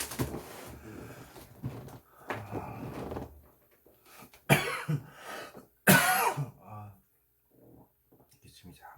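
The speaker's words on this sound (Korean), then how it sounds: "기침이 잠깐 나왔습니다." A couple of sharp coughs and throat clearing break up ongoing speech.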